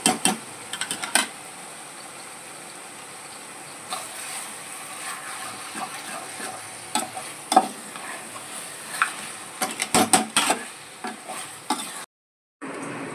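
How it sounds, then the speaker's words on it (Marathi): Mutton fries with browned onions in a pan, a steady hiss of sizzling broken by scattered scraping stirs and utensil clicks, close and continuous, cutting out briefly near the end. "कांदा चांगला परतून झालेला आहे। त्याच्यामध्ये आपण मटण टाकणार आहे।"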